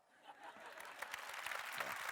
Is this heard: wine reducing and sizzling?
no